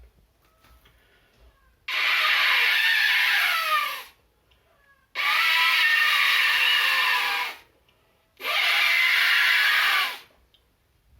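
A performer at a Keralotsavam mimicry contest vocally imitates an elephant trumpeting: three long, loud, harsh blasts of about two seconds each, separated by short silences.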